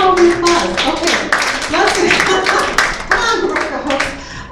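An audience at an in-person community event applauding, with loud, dense, continuous clapping from many hands close by, mixed with voices talking underneath.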